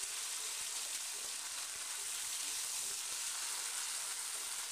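Garlic frying in a pan for a bagoong alamang in coconut milk dish, giving a steady, even sizzle with faint crackling pops throughout, fairly quiet and uninterrupted, with no voices.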